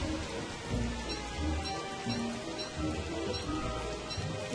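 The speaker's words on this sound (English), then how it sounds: "So weather must know I'm gonna kill that Beefalo because it's raining." Steady rain falls in the Don't Starve Reign of Giants video game, a continuous broadband hiss with soft patter and low rumbles, even and moderately loud throughout with no voices.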